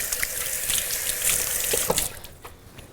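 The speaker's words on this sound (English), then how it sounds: "So let me give my hands a wash here." Hands being washed under a running kitchen tap, with a steady splashing stream of water close by that fades toward the end, and no talking.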